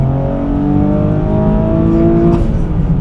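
A 500 wheel-horsepower Nissan Z with a Nismo clutch accelerates hard, its engine note climbing steadily in a loud, close, rising rev with no talking.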